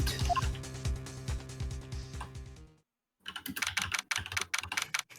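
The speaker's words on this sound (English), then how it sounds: "I can hear you typing, by the way." Rapid, irregular keystrokes on a computer keyboard clatter close to the mic, with a short pause in the middle before another burst of typing; no one speaks.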